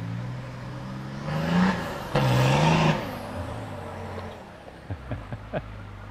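A Jeep Gladiator turbo diesel engine revs hard on a rough 4x4 track, two swelling bursts of throttle climbing in pitch, then settling to a low idle with a few short knocks.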